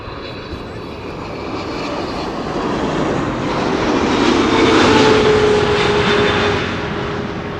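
An airliner arriving at Amsterdam Schiphol roars in close, its engine noise building steadily to a loud peak with a rough, turbulent wake edge before easing slightly.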